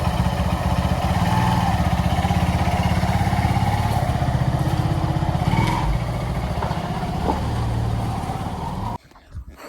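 A motorcycle engine runs loudly and steadily nearby for several seconds, then suddenly drops away near the end.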